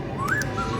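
An animatronic Halloween monkey prop in a store gives a brief, faint rising whistle followed by a softer second note over a low background hum.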